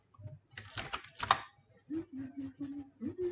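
Keys clatter on a computer keyboard in quick bursts, close and fairly loud, then a voice speaks over softer continued tapping.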